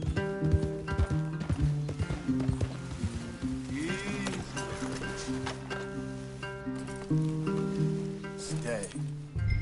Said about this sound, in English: Leave the horses in the trees there.